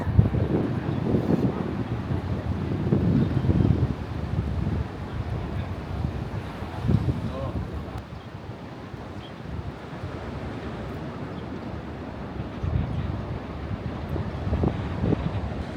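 Strong wind at Levante Beach in Benidorm, gusty buffeting roar against the microphone with surges and lulls, mixed with a faint wash of surf.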